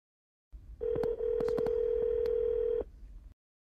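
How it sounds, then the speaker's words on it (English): A phone call rings through a Ford SYNC car system, a steady electronic tone lasting about two seconds with short clicks over it, close and clear, alone with no talk. "When someone calls you, press the phone button to answer."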